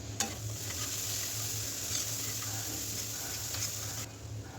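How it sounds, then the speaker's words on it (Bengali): Spice paste with ginger, turmeric, coriander and cumin powder stirred and fried in a pan, a soft continuous sizzle with light scraping stirs, faint and close, no talking. "মশলাটা একটু নেড়ে চেড়ে এবার দিয়ে দিচ্ছি ধনিয়া গুঁড়া আর জিরা গুঁড়া।"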